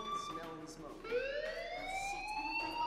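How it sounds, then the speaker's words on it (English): A fire alarm in the Life is Strange video game wails with a rising, siren-like tone that grows steadier and stronger, quiet overall and mixed with faint voices. "Hey, do you hear that fire alarm?"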